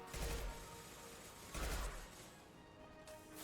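Two short bursts of rapid gunfire from a weapon in the video game Mass Effect 2, each a dense cluster of shots about a second and a half apart, followed by quieter game ambience.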